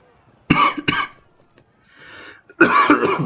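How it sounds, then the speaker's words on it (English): Three harsh coughs, the first two back to back, then a short breathy pause and a longer burst of raspy coughing, close and loud. "Sorry about the coughing fit"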